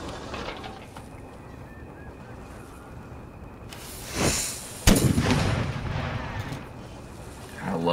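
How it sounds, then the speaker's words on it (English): Booming artillery fire in a video game, with a sharp heavy blast near the middle followed by rumbling, plus a softer thud just before, over a steady background din with faint voices. "I love the sound of artillery"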